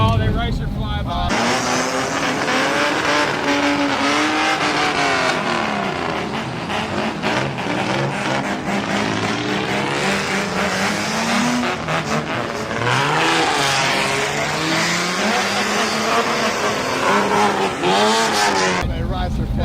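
A race car roars past up close, engine loud and sustained with rising and falling pitch as it sweeps by, heard from inside a moving car with voices talking throughout.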